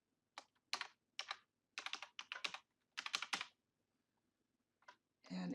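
A computer keyboard clicks as a password is typed, in quick, close clusters of keystrokes with short pauses between them, then a final longer rustle.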